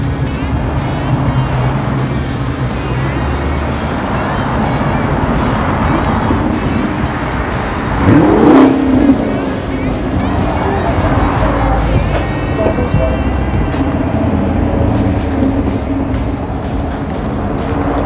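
Camaros from the Camaro Car Club of Arizona roll past at a rally in Lake Havasu City, a steady, fairly close engine and traffic rumble that swells briefly midway, with no clear voices.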